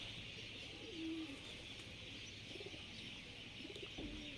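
Pigeons coo softly at dusk before feeding, a few low, brief calls over a steady hissing background, fairly distant and faint.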